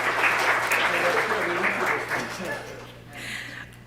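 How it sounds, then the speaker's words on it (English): A synagogue congregation applauds performers steadily, a dense wash of clapping that gradually thins and fades out, with faint speech underneath near the end. "please feel free to applaud and show these incredible performers your appreciation."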